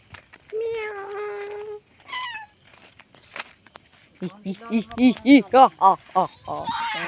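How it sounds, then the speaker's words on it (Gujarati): A cat gives a couple of meows, one long and one shorter, followed by people speaking close by. "બિલાડી બોલે છે"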